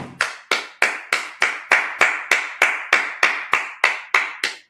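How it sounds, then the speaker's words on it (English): A congregation claps at a Sabbath service in a loud, even beat of about thirteen sharp claps in unison. The claps are evenly spaced, each with a short ringing tail, and no one talks. "Let's clap it up."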